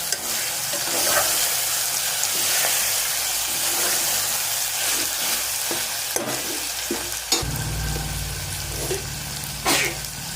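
Boti curry ingredients frying in a pan over a low flame, with a steady loud sizzle throughout and occasional sharp scrapes of stirring, plus a low hum rising near the end.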